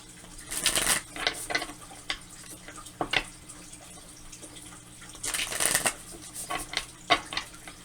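Tarot cards are shuffled in two quick riffling bursts a few seconds apart, with softer card handling and taps in between, close by.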